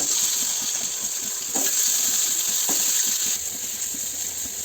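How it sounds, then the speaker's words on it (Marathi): Eggs coated with salt and turmeric fry in a pan, giving a steady bright sizzle with a few soft clinks and stirring scrapes, close and continuous with no talking. "अंडे आहेत त्याला मीठ आणि हळद लावून थोडंसं भाजून घ्यायचं"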